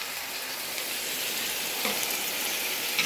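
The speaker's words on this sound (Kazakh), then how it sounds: "Piyaz қуырылып болғаннан кейін, міне дайындап қойған сәбізімді саламын." Onions and freshly added carrots sizzle steadily in hot oil, a dense, continuous frying hiss that stays close and even, with a faint stir or clink near the end.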